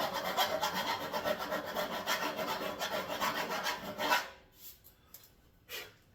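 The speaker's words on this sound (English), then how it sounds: "Get you a chainsaw file. And go through, and the holes that you want to clean" A chainsaw file rasps paint out of holes in a Rambler door trim panel. Quick, steady back-and-forth strokes go on for about four seconds, followed by a couple of lone strokes.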